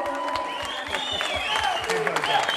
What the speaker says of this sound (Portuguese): uma salva de palmas para o Luís, por favor.